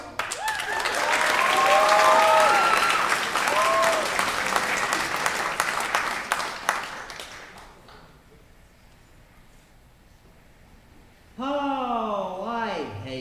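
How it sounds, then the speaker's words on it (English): Theater audience at a high school production of The Drowsy Chaperone breaks into loud, dense applause that gradually fades to quiet, then a voice starts speaking. "You can clap now."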